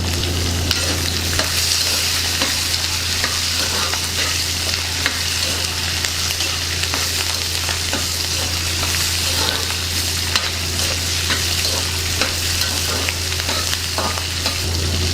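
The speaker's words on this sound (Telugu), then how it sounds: "వీటిని బాగా వేయించుకుందాం ఇందులోనే కరివేపాకు వేసుకుందాం" Peanuts with green chillies and curry leaves sizzle steadily in hot oil in a pan for peanut and tamarind chutney, with a loud continuous frying hiss, a low steady hum and scattered stirring scrapes throughout.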